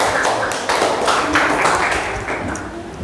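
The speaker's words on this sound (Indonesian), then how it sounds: "tepuk tangan untuk Franciscus" Classroom applause for a student, a short burst of many hands clapping together, loud and close, dense and fairly steady for about three seconds with no speech over it.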